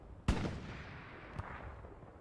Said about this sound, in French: qui est en train de shoot avec son canon AT